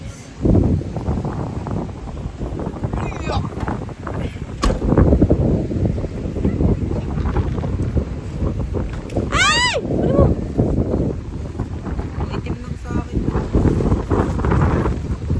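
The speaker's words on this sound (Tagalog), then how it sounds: "Dahil sobrang lakas ng hangin" Strong wind buffets the microphone in a loud, continuous low rumble on an outing, with people talking and shouting over it throughout.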